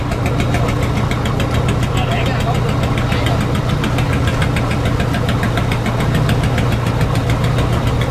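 The engine of a crab-trap fishing boat at Ben Da port in Vung Tau thumps in a loud, steady diesel knock close by, alone and unbroken throughout.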